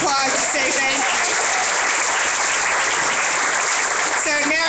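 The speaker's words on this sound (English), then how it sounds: "let's give him a round of applause to say thank you" Audience applause thanking Richard at a talk, a dense, steady wash of clapping filling the room for several seconds, with faint voices briefly audible at the start and end.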